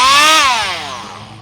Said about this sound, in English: when using the oscillating multi-tool for this type of job, what you want to do is lower the speed